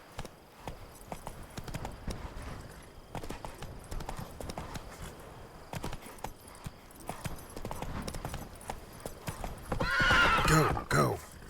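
Roach, a horse in The Witcher 3: Blood and Wine, gallops with rapid clip-clop hoofbeats throughout, then lets out a loud, close neigh near the end, with a voice urging it on.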